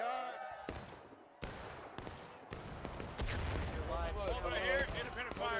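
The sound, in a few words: musket gunfire in the video game War of Rights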